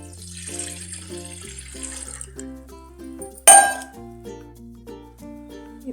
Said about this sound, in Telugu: ముందుగా ఒక కడాయి పెట్టి అందులో కొంచెం వాటర్ వేసుకోవాలి